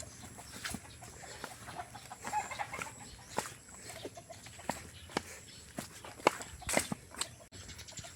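Backyard chickens clucking sporadically on a muddy farm after heavy rain, soft scattered clucks and short calls at moderate distance amid faint outdoor background noise.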